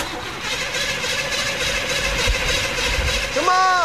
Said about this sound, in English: I'm going to turn it over again. Let's give it another shot.